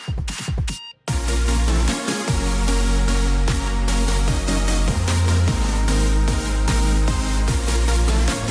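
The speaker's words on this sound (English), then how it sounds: "That loud thumping noise you heard from 14 is the oil burner system" Puffing Billy steam locomotive 14 running on its oil burner, a loud continuous roar with repeated deep thumps at a steady rhythm, close by and dominating everything else.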